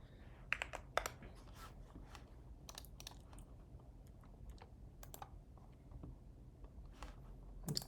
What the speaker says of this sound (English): My keyboard is a Keychron Q4